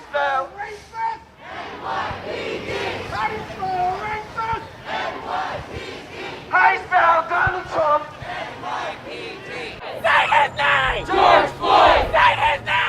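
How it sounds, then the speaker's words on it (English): Protest crowd on Flatbush Avenue screaming and chanting, a dense swell of many raised voices in rhythmic pulses, loud and close, growing more intense toward the end. "People are screaming and chanting, but no violence has been seen so far"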